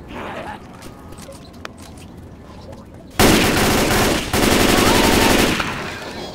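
Bursts of gunfire in the video game Left 4 Dead 2: quiet rustling and a single click, then a loud sustained spray of automatic fire, a brief pause, and a second long burst that trails off.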